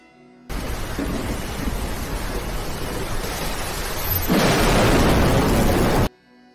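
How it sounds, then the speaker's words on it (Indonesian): Heavy rain roars steadily as a loud, dense wash of noise, then swells sharply as a crash of thunder breaks and sustains near the end before stopping abruptly. "hujan turun dengan deras disertai petir yang besar"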